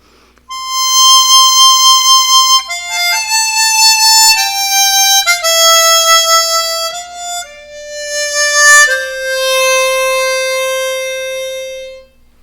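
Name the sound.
chromatic harmonica played with lip vibrato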